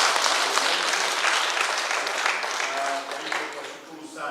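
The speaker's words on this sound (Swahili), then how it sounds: "Hebu wapigieni makofi." A church congregation at a Kikuyu Sunday service after Easter breaks into applause, a dense sustained wash of clapping from many hands that tapers slightly toward the end.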